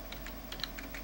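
A command being typed on a computer keyboard in MS-DOS, a quick run of light, close key clicks in an uneven rhythm over a faint background hum.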